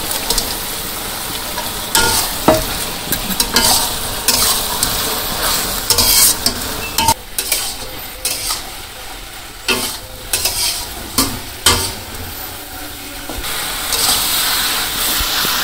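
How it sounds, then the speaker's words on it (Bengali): Taro stolons cooked down with previously fried fish in a village-style kitchen, a steady sizzle broken by repeated scraping stir strokes and light utensil clinks, close and fairly loud throughout with no voices. "এই যে আমার কচুলতি কষানো সুন্দর করে কষাই নিচ্ছি"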